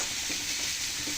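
A brief burst of frying in hot oil for an eggplant curry, a dense, even, close-up sizzle with no pauses.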